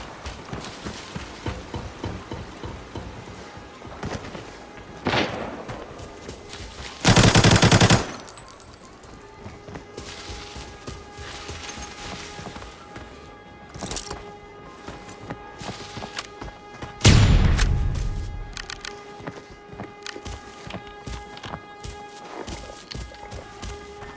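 Bursts of AK-74 automatic fire ring out in the video game Arena Breakout: two loud, sustained volleys stand out amid quieter footsteps, scattered shots and game ambience.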